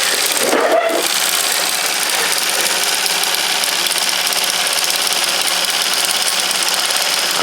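A small steam launch engine with its feed pump runs on a bench test, giving a steady, close, hissing mechanical rush that stays even throughout after a brief knock near the start.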